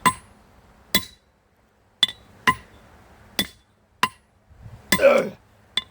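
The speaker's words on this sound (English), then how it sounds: "And that's a 4-pound hammer." A 4-pound hammer strikes a tempered steel blacksmith drift in sharp, ringing metallic blows, about eight hits spaced roughly half a second to a second apart, close and loud with quiet gaps between.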